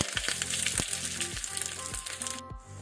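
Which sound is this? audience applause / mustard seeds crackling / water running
mustard seeds crackling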